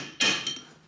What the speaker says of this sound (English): Now grab your little hammer, try to do the same thing.